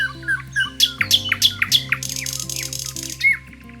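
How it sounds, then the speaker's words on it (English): Birds chirp and tweet in a home garden in Pune, a busy mix of quick, bright calls and fluttering trills overlapping close by, with one louder squawk near the end. "You can hear so many birds here in the morning as well."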